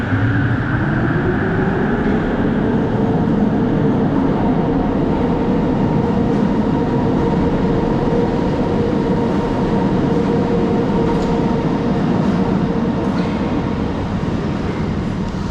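A Malaysian LRT train rolls into Putra Heights station with a loud, steady rumble and rising whine of motors, continuous and close, gradually settling as it stops.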